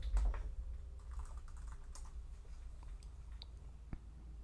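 A password is typed on a computer keyboard while installing the Daedalus Cardano wallet, producing close, quick, irregular key clicks over a steady low hum, with no talking.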